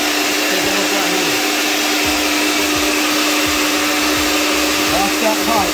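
A pipe threading machine runs on gas pipe, giving a steady, loud motor whine with a broad hiss that holds constant throughout, while someone talks faintly over it.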